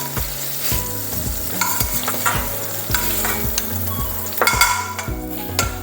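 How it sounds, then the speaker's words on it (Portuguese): Chickpeas sauté in a hot pan with some cooking liquid, a steady close sizzle under repeated scraping and stirring strokes of a utensil against the pan. "agora é deixar saltear para que depois resulte numa preparação agradável e com sabor"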